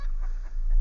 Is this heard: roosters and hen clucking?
yes